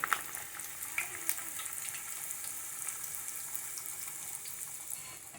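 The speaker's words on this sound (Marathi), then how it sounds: "पुरी ही चांगली आपली तळून घेऊया त्याच्यात." A puri made of dough with fenugreek leaves fries in hot oil over a medium flame, producing a faint, even sizzle with a few light splashes and clicks early on, quiet and close, no voices.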